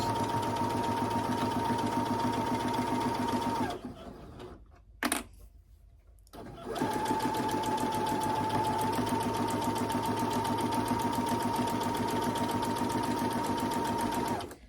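A sewing machine runs steadily and loud, stitching through several fabric layers of a pillowcase at a slow pace, pausing briefly in the middle before starting up again with the same even mechanical whir.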